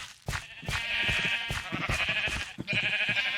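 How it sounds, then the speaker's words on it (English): Several sheep bleat repeatedly in overlapping calls on a Minecraft farm, close and clear, with a busy, continuous chorus of game animal sounds and no talking. "Here's all my sheep in the farm."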